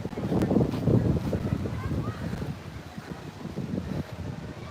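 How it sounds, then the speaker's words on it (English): Gusty wind buffets the microphone outdoors at a Disney resort walkway, a steady low rumble under faint background voices, swelling and easing over a few seconds. "It's very windy out today"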